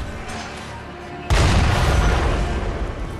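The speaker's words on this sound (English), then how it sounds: "That's a cannon." A cannon in the video game Sekiro: Shadows Die Twice fires one loud, deep boom partway through, breaking a quieter background and leaving a long rumbling tail.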